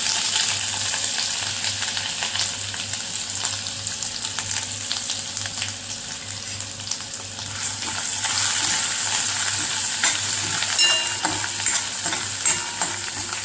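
Cumin seeds and ginger garlic paste fry in a pan for a spinach and sweet corn bhaji, producing a continuous close sizzle with occasional stirring scrapes and a louder, brighter hiss toward the end.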